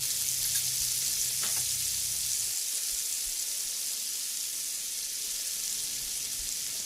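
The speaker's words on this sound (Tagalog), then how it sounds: "Pwede na po natin ilagay ang ating soy sauce mixture." Chicken sizzles loudly in a pan as a soy sauce mixture is poured in, with a steady, bright frying hiss throughout and a low burble of liquid fading after the first couple of seconds.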